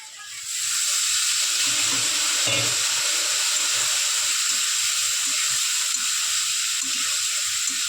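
Water splashes into a pan of spice masala frying with chili, setting off a loud, steady sizzling hiss that swells within the first second and holds for the rest of the clip, with faint scraping beneath.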